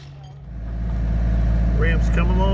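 A heavy excavator works its way down a steep hill on a dirt track with ramps, banks and drops, its engine droning loud and steady throughout, with rising rumble after a quieter start.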